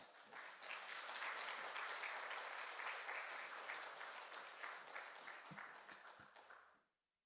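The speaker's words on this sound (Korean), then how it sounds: "우리 선교사님 우리 환영하며 박수로 한 번 맞을까요?" A church congregation at an afternoon service claps to welcome a missionary to the pulpit, a steady room-filling round of applause that tapers off and stops abruptly near the end.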